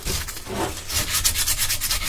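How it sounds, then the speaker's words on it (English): Light sanding of wood by hand with fine 150-grit sandpaper, worked around the inside of a piece; a steady, close, continuous rubbing scrape with slight rhythmic strokes and no voices. "Do a little bit of light sanding, and it just takes out any little imperfections."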